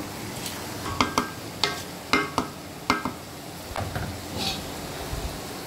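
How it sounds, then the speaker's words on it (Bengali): Bengali-style chicken curry with potatoes is stirred in a pan, with a series of sharp spoon scrapes and knocks at an uneven rhythm over a faint sizzle, close up and without speech. "দেখুন এটা আমি একেবারে নেড়ে দিলাম"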